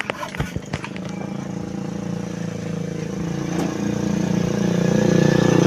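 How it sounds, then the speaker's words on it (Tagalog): A motorcycle engine idles and rumbles steadily nearby, growing gradually louder toward the end, with a few brief knocks at the start, as it is parked outside a busy barbershop. "Ay, parada po ang motor."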